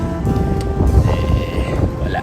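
Strong wind buffets the microphone in heavy low gusts while a delivery rider cycles in Japan, with faint voices and a brief distant tone.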